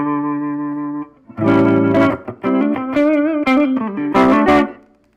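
Guitar run through an amplifier's wah effect, sweeping harmonic tones with a vocal-like filter movement over sustained notes and short chord bursts, loud and close, with no talking.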